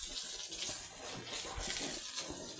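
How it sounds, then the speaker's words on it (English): Water poured over a concrete pig pen floor on a Kenyan farm to loosen waste, a fairly quiet continuous splashing and gushing with small surges, no talking. "I usually pour the water to ensure that the waste that is on the floor get to detach itself from the floor."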